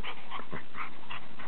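A dog whimpers and yips in short high-pitched bursts, close by, with several brief cries spread over a second and a half and no talking.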